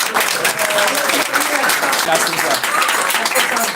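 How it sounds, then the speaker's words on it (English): Steady, loud applause from a devotional gathering, a continuous wash of many hands clapping with a voice faintly audible beneath it. "Let's have a round of applause."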